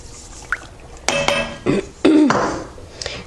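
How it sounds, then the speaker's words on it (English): Sugar dumped into warm milk for homemade yogurt, heard as a few short bursts of granular pouring and light clinks against the container, close and fairly loud between quiet gaps. "Now we're going to just dump in our sugar."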